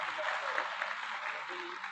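Steady, dense audience applause fills a farmers' conference hall, continuous clapping from a large crowd, loud and sustained throughout with no individual claps standing out.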